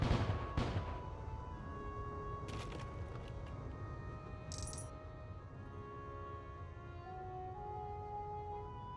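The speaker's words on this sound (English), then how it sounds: "Aim our cannons and show them what you got." Ship cannons in the airship game Void Sails fire at floating crates, giving a few sharp booming reports near the start and middle. A steady game ambience and a faint tonal score hum along underneath.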